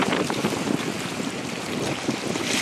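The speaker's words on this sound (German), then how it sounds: "da windet es nur dezent" Wind blows beside a lake with small waves, producing steady broadband rushing and buffeting noise against the microphone.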